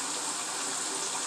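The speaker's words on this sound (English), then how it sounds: "Looks like we are almost done filling up the tub." Tap water pours steadily into a filling bathtub, a loud, close, continuous gush with no voices over it.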